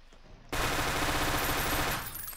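Rapid automatic gunfire from a weapon in an online oil-warfare tycoon video game bursts in suddenly and roars continuously for about a second and a half, loud and dense, then cuts off.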